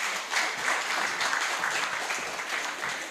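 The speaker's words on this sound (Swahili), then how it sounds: "Makofi mengi zaidi jamani." An audience applauds at a stakeholder discussion on the death penalty: a steady, dense wash of clapping from many hands, fairly close, with no talking heard.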